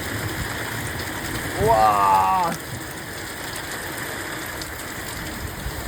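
Heavy, steady rain pours down during a windy thunderstorm in Corrèze, a dense hiss filling the whole stretch, with one excited exclamation from a voice briefly rising over the downpour.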